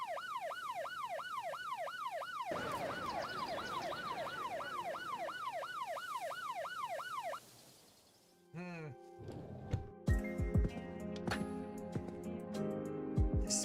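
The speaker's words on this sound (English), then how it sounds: "Call an ambulance!" An ambulance siren in a video game wails in a fast repeating up-and-down pattern for several seconds, then cuts off, followed by game sound effects and music with some voices.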